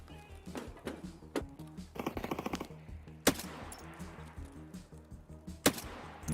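Gunfire in a video game, a mix of single sharp shots and a short rapid burst, loud and close, scattered irregularly over several seconds with no talking.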